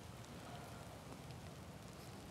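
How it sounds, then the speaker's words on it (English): Light rain begins outdoors, a faint, continuous hiss of drops with occasional small ticks, steady and quiet throughout the short moment with no talking. "starting to rain, as you can tell."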